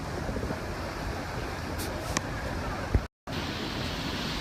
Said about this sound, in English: this is glacier water coming right off the glaciers up on the mountains